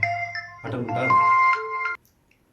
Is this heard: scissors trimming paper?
no